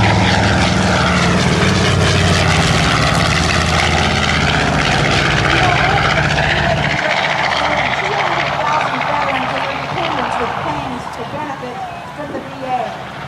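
A B-25 Mitchell bomber, the Strafer version, drones with its propeller engines at an air show, a loud continuous roar that fades slightly toward the end while someone talks over it.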